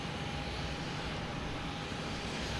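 JetBlue airliner arriving at Boston Logan, a steady distant jet engine hum with a faint whine, even and unbroken throughout.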